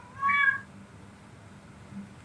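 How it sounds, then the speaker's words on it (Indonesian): A single short cat meow rises near the start, fairly faint against quiet room tone, then nothing follows. "Banyak banget kucing. Wih, berisik banget."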